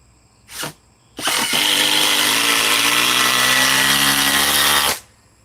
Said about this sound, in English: Now let's go with the Ryobi. The PBL IDO2 with the 4-amp edge battery.